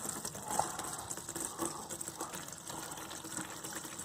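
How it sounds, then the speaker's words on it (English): Distilled water pours and gushes steadily into the radiator of a 2005–2015 Toyota Tacoma during a coolant flush, a continuous close, moderately loud wash with no talking. "at the same time I'll be keep filling the radiator with the distilled water"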